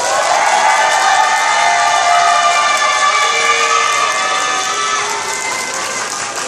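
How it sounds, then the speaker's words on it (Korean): An audience at an elementary school orchestra summer camp claps and cheers steadily, loud and close, fading slightly toward the end. "감사의 박수 한번 부탁드립니다"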